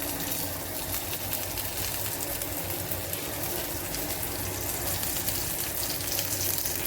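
Ginger and garlic frying in a pan, a dense, steady sizzle close up that runs unbroken the whole time, with no voices over it.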